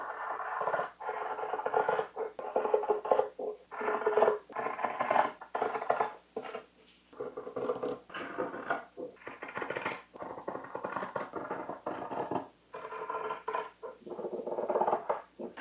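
Scissors snip and rustle through fabric while cutting out a T-shirt pattern piece, a continuous run of close, crisp crunching cuts broken by short pauses.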